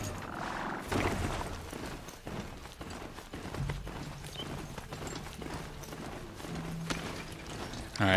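Hooves clip-clop in a steady, quick rhythm as a horse gallops in the video game Horizon Zero Dawn, over a busy background of clatter and game sounds, with no talking.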